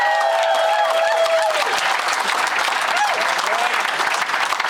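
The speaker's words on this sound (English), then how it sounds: "Guys, make it loud for John Gallagher." A comedy club audience claps and cheers loudly for a comedian being brought onstage, a dense, steady wash of applause that fills the whole clip, with a few brief shouts rising above it.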